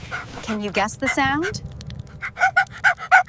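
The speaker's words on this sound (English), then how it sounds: "a loud bark made Pingo jump" A puppy barks in a run of short, quick, high yaps after a child-like voice speaks, the barks close and fairly loud.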